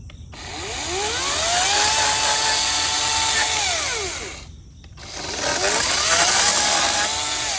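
A chainsaw cutting up a tree in a residential yard, the engine loud and close as it climbs to a high whine, drops off briefly, then revs up again for a second cut.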